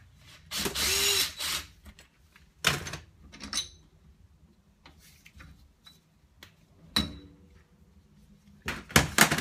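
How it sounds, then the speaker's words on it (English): An impact wrench removing a shock mount from a Sway-A-Way RaceRunner coil-over off-road shock, firing in several short bursts separated by quiet gaps and small clicks, close and loud. "the other one I'm going to power it off using my impact."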